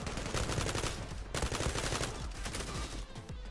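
Rapid bursts of gunfire from the online shooter game Zula, dense and loud, with overlapping automatic shots and single cracks running almost continuously throughout.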